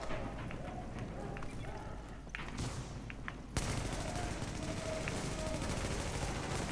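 Enemy gunfire through walls in the shooter game The Division, rapid bursts and shots rattling over continuous game noise, growing denser and louder halfway through while a player talks.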